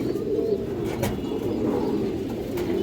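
Low, steady cooing from a pair of khoira gola (khaki-throated) pigeons fills the recording, soft overlapping coos rolling on continuously at close range with a few faint chirps above.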